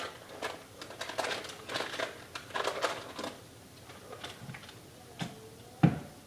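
A stick of butter being unwrapped from its paper, faint crinkling and rustling in short bursts with a sharp tap near the end.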